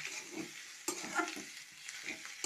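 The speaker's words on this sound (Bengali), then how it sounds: "এইভাবে আমি এখন লো ফ্লেমে কিছুক্ষণ ভাজতে থাকবো" Fish roe frying on low flame in a pan while being stirred, a soft crackling sizzle punctuated by several scraping stirs, close and fairly quiet, with no talking.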